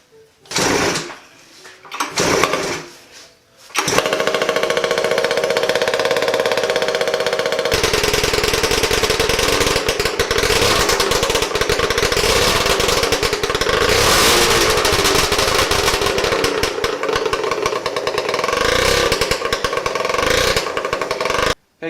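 A 110 hp engine on a custom 4x4 triple riding mower build fires up after a few sputtering tries, then runs loud and steady with a harsh rattling roar that stays close and continuous.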